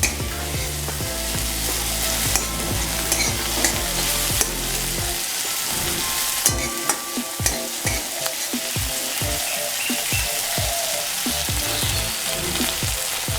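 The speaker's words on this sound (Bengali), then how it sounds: "টমেটোটা যখন একটু লাল ভাজা হয়ে যাবে, তারপরে আমরা আলুটা দিয়ে দেবো।" Tomatoes fry in a pan as the base for a Bengali rohu fish curry with okra and potato, giving a loud, steady close sizzle broken by repeated scraping stirs of a spatula, with no talk.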